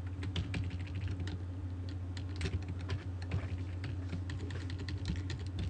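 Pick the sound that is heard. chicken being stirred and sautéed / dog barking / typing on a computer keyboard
typing on a computer keyboard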